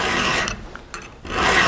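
Hand file rasping across saw teeth to clean out the gullet, two bursts of gritty scraping strokes with a short pause between, close and fairly loud.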